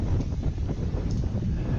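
Strong wind of about 35 knots sweeps across a little-used airfield at Castejón de Monegros where light aircraft are tied down facing into it, producing loud, continuous buffeting roar on the microphone with no voices.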